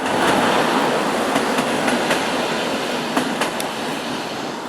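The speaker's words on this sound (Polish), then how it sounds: "O, akurat jedzie pociąg." A train rumbles steadily past nearby, a broad continuous roar with faint rhythmic clicks of wheels over the rails.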